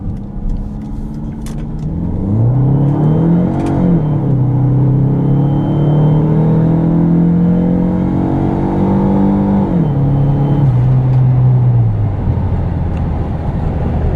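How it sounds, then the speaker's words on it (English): A turbocharged Mopar PT Cruiser accelerates hard, its engine note climbing through gears in loud rising sweeps with a brief drop at each shift and a faint turbo whistle above. "Makes good turbo noises."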